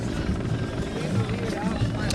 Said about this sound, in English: And that's a helicopter.